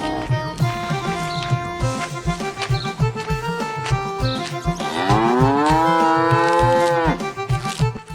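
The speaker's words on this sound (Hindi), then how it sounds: "उनको एक तबेले के पास लेकर पहुंचा। जहां सारे भैंसे बंधे थे।" Buffaloes tied up in a stable in a cartoon give a long, loud, drawn-out moo over a steady rhythmic thumping background, close and prominent.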